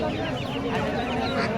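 Chickens and roosters cluck and squawk continuously at a busy rural farmers' market, close and loud, mixed with crowd chatter and people talking nearby.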